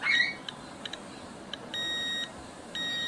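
A Geiger counter gives a few short electronic chirps, then sustained high-pitched alarm tones sounding in two long bursts with a gap between them, close by.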